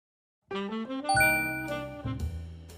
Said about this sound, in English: It looks like we have a notification from our remote diagnostics.